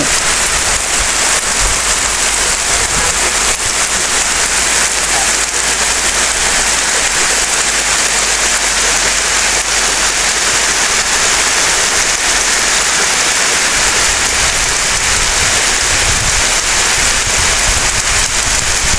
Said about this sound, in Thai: เสียงฝนเย็นเย็นพี่น้อง